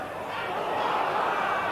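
Large football crowd at Anfield during a Liverpool v Arsenal league match, a dense roaring swell of voices and chanting filling the stadium, continuous and slightly rising over the brief moment.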